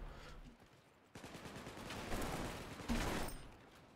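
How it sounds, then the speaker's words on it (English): Shotgun blasts from the Wormhole Wars video game, a rapid burst of loud close shots with a sharp onset and another hard hit near the end, no talk. "The shotgun is pretty powerful."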